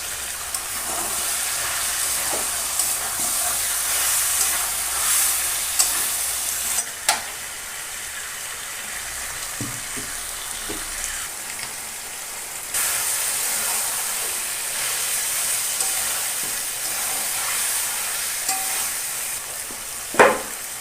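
Chicken curry with Kashmiri chilli powder sizzles and fries steadily in a pan, a loud continuous hiss broken by occasional scrapes and knocks as it is stirred, with no talk.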